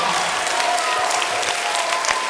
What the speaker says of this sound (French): Je pense qu'on peut vraiment le féliciter et l'applaudir très très très fort.